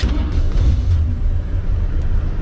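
A 1969 Ford Mustang Fastback's 8.4-liter V8 starts up, a deep, loud engine rumble filling the whole stretch, steady low-frequency roar with slight fluctuations, close by, no talking.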